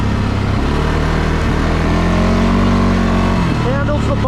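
A 2022 CFMOTO CFORCE 600 ATV engine pulls away and gains speed, its steady loud drone climbing in pitch across a few seconds, with a voice talking over it.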